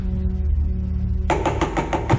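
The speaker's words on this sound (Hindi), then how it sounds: "दस्तक" After a low quiet hum, a series of about six firm, evenly spaced knocks on a door ring out in a dramatic scene, close and sharp with no voices.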